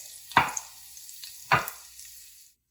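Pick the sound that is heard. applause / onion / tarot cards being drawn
onion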